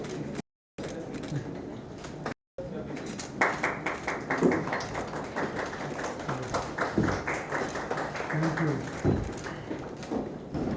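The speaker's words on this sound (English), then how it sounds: "amidst a loud round of applause" A loud round of applause rises at the launch of the Northeastern Region SDG Index in India, dense clapping swelling after a few seconds and continuing under voices talking nearby.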